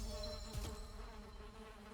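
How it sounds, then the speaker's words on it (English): A swarm of bees hums in the video game Valheim, a steady, layered buzz at moderate loudness, broken by one short thud around the middle, with no speech. "Yeah, we got bees."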